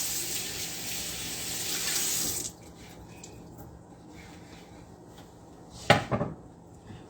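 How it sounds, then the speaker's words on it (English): Eggplant rinsed under a running kitchen tap: a steady, fairly loud gush of water for about two seconds, then a quieter stretch ending in a brief clatter near the end. No talking. "So we're gonna go ahead and rinse this"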